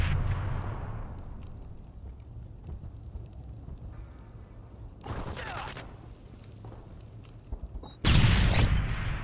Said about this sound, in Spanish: ¡Granada disparada!